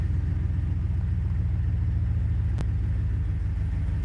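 A car engine idling rough and untuned, a loud, close, steady low rumble with a slightly uneven throb and one brief click partway through, no voices.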